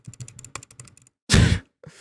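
Someone clicks on a computer keyboard in a burst of quick, close, crisp keystrokes, followed by a loud exhaled breath and then a few more clicks.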